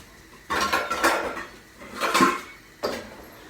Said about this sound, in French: Et tous les oignons, on les met dans le bol.